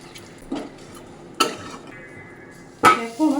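A spoon stirs a vegetable curry in a cooking pot, a few sparse metallic scrapes and clinks spaced about a second apart, close and fairly quiet.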